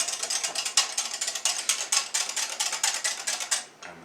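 A kitchen stove is switched back on while custard for a Swedish princess cake is being made, giving a rapid, even run of sharp clicks for about three and a half seconds before stopping.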